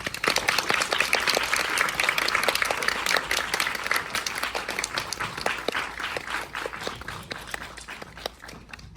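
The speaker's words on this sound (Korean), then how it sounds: "큰 감동만큼 큰 박수로 맞아주시기 바랍니다." A live audience applauds to welcome two film directors onto the stage: dense, steady clapping from many hands that fills the room for about nine seconds, then thins slightly toward the end.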